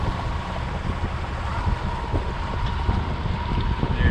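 Steady wind rushes across the microphone beside a yacht club harbour near a lighthouse, a constant loud roar with low buffeting and no speech.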